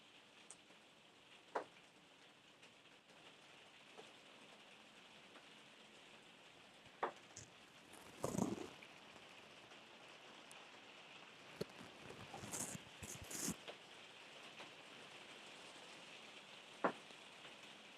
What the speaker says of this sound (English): The rain is here again.